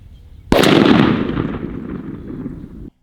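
A single loud, close blast from a 28 gauge shotgun loaded with 9.5 shot, a vent rib gun with a red dot sight, ringing out briefly before ending abruptly.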